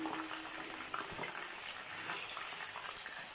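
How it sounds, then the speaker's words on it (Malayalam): A second batch of chicken fries in a pan for a fried chicken biryani, giving a steady, close hiss and crackle of hot oil with no talk. "അപ്പോൾ നമ്മുടെ രണ്ടാമത്തെ ബാച്ച് ചിക്കനും കൂടി ഫ്രൈ ചെയ്ത് പാത്രത്തിലേക്ക് മാറ്റാൻ പോവാണ്"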